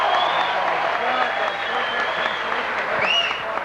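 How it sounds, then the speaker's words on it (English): Crowd applause after a Muay Thai championship bout, a steady wash of clapping and cheering beneath a loud announcer's amplified voice, with a brief whistle-like tone near the end. "Give them a big round of applause."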